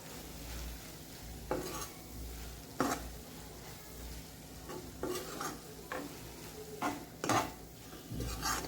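Red chilli powder being stirred into capsicum and potato in a pan gives soft scraping and spatula knocks against the metal at irregular intervals over a low, steady sizzle, with no voices.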